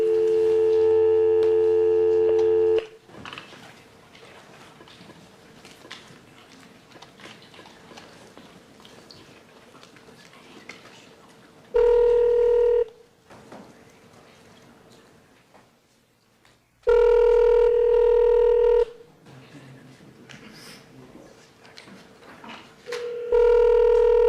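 Telephone tones during a court hearing call: a loud steady tone, then soft room noise broken by repeated long ringback beeps spaced several seconds apart, with no talking.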